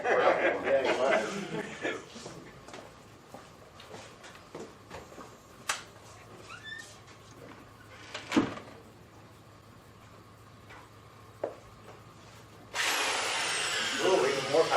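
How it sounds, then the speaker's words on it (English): A new paint mixer spun by a power drill whirs through ice cream in short bursts, with people talking and chuckling nearby, then a louder sustained drill run at the end. "we put the paint mixer in the drill, a nice new one"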